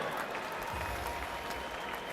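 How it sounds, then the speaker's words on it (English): An arena crowd at an MMA fight gives a round of applause for fighter Toby TigerHeart Grear. The clapping forms a soft, even wash that sounds distant and hazy. "Big round of applause for Toby TigerHeart Grear"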